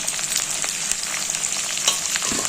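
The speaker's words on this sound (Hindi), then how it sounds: "तो प्याज को भी साथ में अच्छे से फ्राई होने देंगे।" Onions fry with masala in a pan for a Jharkhand-style roasted chicken dish, sizzling steadily and crisply up close with occasional light stirring clicks and no speech.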